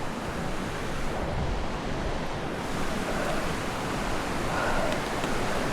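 River water rushes steadily beside a mountain hiking trail near Abuji Cuo, a continuous broadband roar that holds level throughout with no voices over it.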